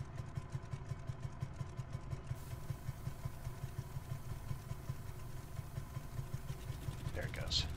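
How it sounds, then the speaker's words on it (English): Aft engine of an S.55X flying boat starting up in a flight simulator, sitting on the water along the Italian coast: a steady low engine drone with a pulsing rumble that runs throughout, with faint short noises near the end. "see if I can get the aft engine started"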